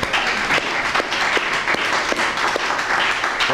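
Audience applause at a 1999 poetry reading in the Bayview Branch Library, steady dense clapping from a crowd filling the room, fairly loud and continuous with a few sharper individual claps.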